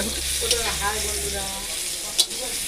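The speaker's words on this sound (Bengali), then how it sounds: "দেখো পটল ভাজা।" Steady, close sizzling of pointed gourd frying in a hot pan, with a couple of brief clinks or stirring scrapes over the continuous hiss.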